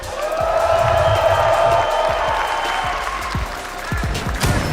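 An esports arena crowd at a Rainbow Six major finals cheers and applauds loudly and continuously, with dense clapping, whoops and a sustained roar of voices.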